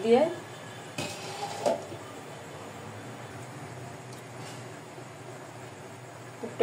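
A metal spoon clinks against a pan or plate while sweet pitha filling is spooned onto a large roti made from boiled flour dough. A few sharp clinks rise over a quiet, hissy kitchen background.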